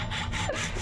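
A hand saw makes a cut during a Norco Sight bike frame build, giving a short close burst of rasping back-and-forth strokes.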